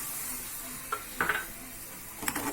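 A pan of vanilla cream made from milk, sugar and cornflour being stirred on the stove, quiet and close, with a few soft scrapes and light clinks of a spoon against the pan.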